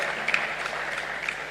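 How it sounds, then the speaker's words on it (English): Audience applause at a commemorative lecture for Reverend Dr. Lawrence Tete, a steady wash of clapping from a seated crowd, moderately loud and sustained with no voices on top. "another round of applause for Reverend Dr."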